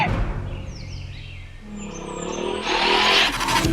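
A car approaches and speeds close past, its engine roar rising sharply near the end with some tire noise. The pass is loud and near, with faint high chirps earlier and no speech.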